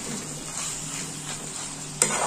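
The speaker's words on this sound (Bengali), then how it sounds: "মাংস কষাচ্ছি" Meat being sautéed in a pan for a Bengali home dish, a continuous hissing sizzle with soft stirring scrapes, then a sharp clatter as a utensil strikes the pan near the end.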